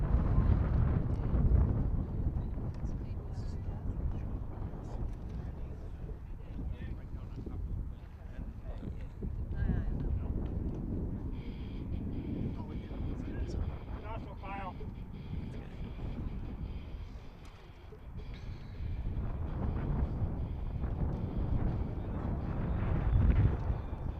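Wind buffeting the microphone at an outdoor varsity high school baseball game in Hornell, a gusty rumble that swells and fades across the whole stretch, with faint indistinct voices in the background.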